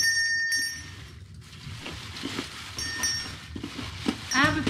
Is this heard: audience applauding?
no